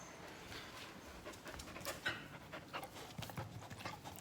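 A pet dog named Ogo pants quietly nearby in a house, a soft rapid rhythm of breathy huffs continuing throughout.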